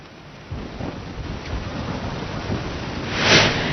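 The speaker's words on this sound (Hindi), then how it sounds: "उधर मुंबई में कल रात से ही बारिश जारी है।" Heavy rain pours steadily over Mumbai with a rumble of thunder swelling near the end, a dense continuous wash of sound with no voices.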